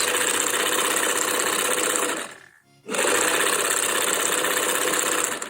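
A sewing machine stitching straight lines through fabric runs in a fast, steady mechanical whir, stops briefly for about half a second, then resumes at the same close, loud pace.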